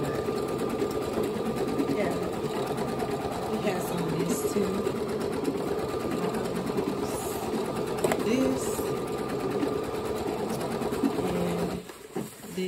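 Steady rapid whirring and stitching of an embroidery machine sewing out a full Minnie Mouse design, loud and continuous, with a person talking over it; the machine stops near the end.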